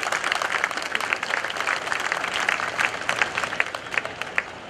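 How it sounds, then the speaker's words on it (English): An airshow crowd at NAS Oceana applauds pilot Greg Shelton after he lands his FM-2 Wildcat, scattered outdoor clapping with individual sharp claps popping out over a soft, spread-out wash of hands. "Let's give him a round of applause"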